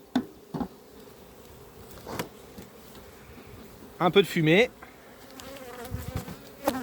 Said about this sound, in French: On observe des abeilles dans toutes les ruelles.